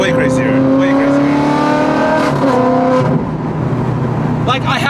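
Ferrari 430 Scuderia engine roaring loud inside the cabin, a steady dense drone with shifting rev tones, while people talk over it.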